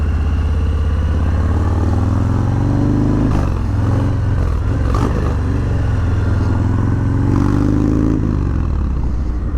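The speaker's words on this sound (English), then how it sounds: "That Milwaukee A107 with this 2-in-1 exhaust" A Harley-Davidson with a Milwaukee-Eight 107 V-twin and a 2-in-1 exhaust rumbles loud and close, with a deep continuous throb that swells as it revs, steady throughout and no talking.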